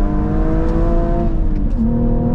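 BMW M135i with N55 engine tuned past 400 hp, accelerating hard through the gears, a loud close engine note rising in pitch with a brief dip at a shift, with no voices.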